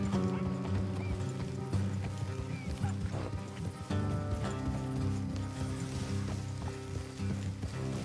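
Horses' hooves clip-clop steadily in Red Dead Redemption 2, a continuous ride at a moderate pace over a tonal musical bed, with no clear talk.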